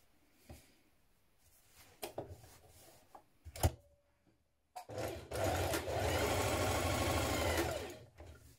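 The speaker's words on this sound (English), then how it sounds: "We're going to stitch along this upper edge." A sewing machine stitches along a denim jeans waistband, running in a loud, steady close-up burst after a few quieter handling knocks and clicks.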